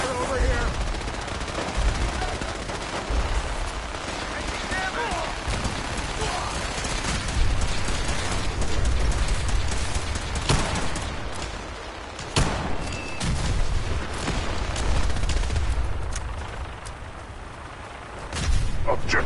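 Gunfire in the Fallout 4 video game, sustained bursts of shots cracking over a dense, rumbling battle din, with sharp louder reports at intervals throughout.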